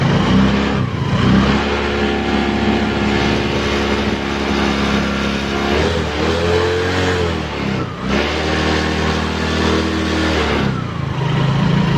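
Yamaha Mio J scooter engine, which has an ECU/CDI fault, revved close up, a loud sustained buzzing drone that climbs and dips in pitch several times as the throttle is blipped, with no talk over it.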